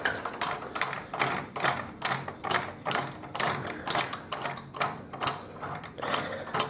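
A ratcheting drum key tightens the last tension screws on a bass drum, giving a steady series of close, loud clicking pulls, roughly two per second, with no talk over them.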